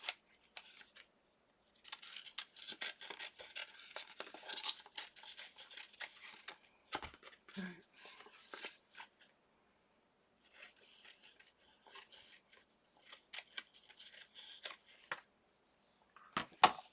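Scissors snip and trim through embossed fabric in a papercraft session, a run of close, crisp cutting bursts with short pauses between, quiet and alone.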